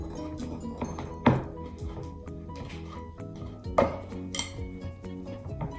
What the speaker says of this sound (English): One thing about brownie mixes, you don't have to get your mixer out. You can just use a spoon.